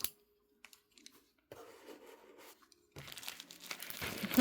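A delivered parcel holding a photocard holder is opened at close range, with sparse clicks giving way to steady crinkling of plastic packaging that grows louder and busier toward the end.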